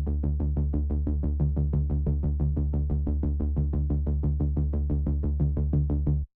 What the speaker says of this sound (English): And now we have that synth pulse that we're striving for.